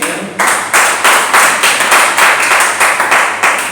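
A church congregation claps together in a loud, steady rhythm of about a dozen sharp, evenly spaced claps in quick succession.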